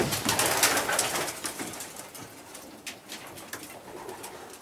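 Pigeons coo repeatedly in a breeding loft, soft layered calls close by with rustling and flapping over a steady background, no talking.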